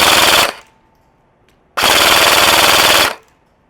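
A G&G Type 64 AEG airsoft rifle firing full auto at about 19 rounds per second, two loud close bursts of rapid buzzing shots separated by a second of quiet.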